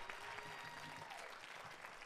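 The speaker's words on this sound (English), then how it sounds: "let's clap it up for them one more time." Audience applause for a student government association president and cabinet at an installation ceremony, a steady dense clapping that fills the whole short stretch at a moderate distance, with no talking over it.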